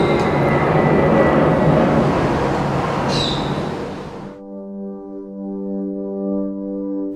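A loud, broad jet-engine roar of an airplane passing close overhead, holding steady and then cutting off abruptly into quiet tones.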